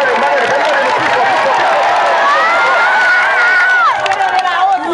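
A large crowd cheers and applauds at a community gathering in Cornillon Grand Bois, a dense, steady roar of clapping and shouting voices lasting throughout, with whistling tones rising above the noise.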